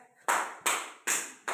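Four crisp, evenly spaced hand claps from a classroom of children praising a pupil, each sharp and ringing, heard alone at moderate loudness.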